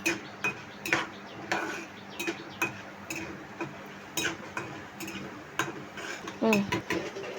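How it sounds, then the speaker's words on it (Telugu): Tomato, onion and green chili being stirred in a pan, heard as a rapid series of sharp metallic utensil clicks and scrapes against the pan, close and moderately loud over a low background hum. "టమాటా, ఉల్లిపాయ, పచ్చిమిరపకాయ వేసి బాగా కలపాలి."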